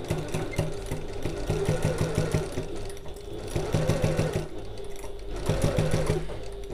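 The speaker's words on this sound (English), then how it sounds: "So I'm going to start sewing from the end using my regular stitch length, my regular seam allowance, and I'm going to back stitch at the start." A sewing machine stitches a seam on a large fabric bag in three rapid, rhythmic runs with brief pauses between them. The close mechanical clatter plays alone.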